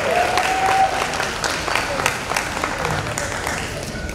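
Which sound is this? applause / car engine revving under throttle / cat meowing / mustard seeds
applause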